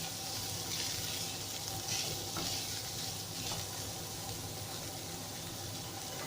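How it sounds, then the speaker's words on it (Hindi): Chicken pieces fry lightly in a pan, giving a soft, continuous sizzle with faint stirring scrapes at moderate distance and no voices. "और चिकन को हल्का सा फ्राई करेंगे"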